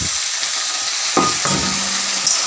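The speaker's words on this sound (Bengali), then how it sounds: "এটা দিয়ে একটু নাড়বো চাড়বো" Onion and tomato fry in a pan with a loud, continuous hissing sizzle, while a spatula stirs with two or three distinct scraping knocks against the metal.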